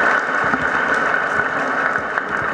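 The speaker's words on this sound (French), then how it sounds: "Applaudissez pour les garçons." A Catholic congregation applauds for the confirmed boys during a parish jubilee at Saint Joseph Charpentier church in Yopougon. The steady, dense clapping fills the whole space and carries on without a break.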